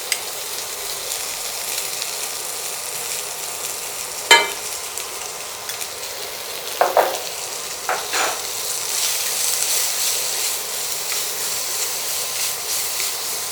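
Sliced onion sizzles steadily in hot oil in a pan, a continuous bright hiss with a few sharp clicks and scrapes of stirring now and then, with no voices.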